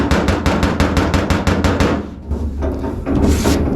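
A hammer strikes a car body panel against a dolly in a quick, loud, even run of metallic taps, then after a short pause resumes with softer, irregular blows.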